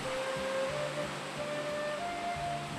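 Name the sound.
Sambuyeon waterfall rushing water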